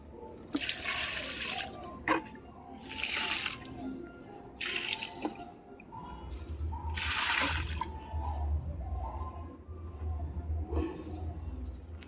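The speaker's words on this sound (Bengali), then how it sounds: "এই গাছগুলোতে জল দিব আজকে" Water is poured onto potted plants in bursts, several separate splashing gushes with pauses between, near and fairly loud, with a low rumbling hum in the second half.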